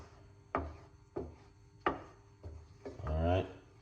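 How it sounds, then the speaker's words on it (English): Plantain fufu stirred in a pot: several separate scraping, rubbing strokes of a wooden spoon against thick dough, close and moderately quiet, the last one longer and rougher. "So you just take a little time and keep stirring it."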